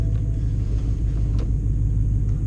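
A BMW E92 M3 with a manual gearbox idles and is given gas, its engine a steady, heavy low rumble that carries on without pause and with no clear rev swell.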